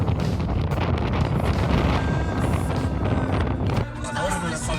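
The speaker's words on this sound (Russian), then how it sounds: "Все, что вам нужно знать о ветрах в Казахстане." Strong wind on the open Kazakhstan steppe buffets the microphone with a constant loud roar and rumble, easing slightly near the end.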